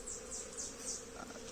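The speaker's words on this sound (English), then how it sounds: "I got the bees from the Nucs into the brood boxes" Honey bees buzzing around beekeeping brood boxes filled from nucs, a steady close swarm drone with individual bees whining past, continuous and fairly faint with no talking.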